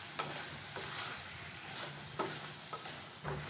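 Chicken with kasturi methi frying in mustard oil while being stirred, a moderate continuous sizzle punctuated by several spatula scrapes against the pan, close and without speech.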